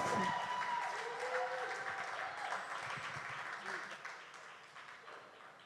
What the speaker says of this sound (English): keep that applause going for perfect health